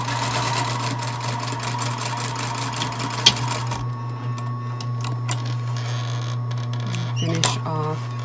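Sewing machine stitching a seam on a tiny orange sweater sleeve: a loud, steady motor whir with rapid needle ticking that stops partway through, leaving a low hum and a few scattered clicks.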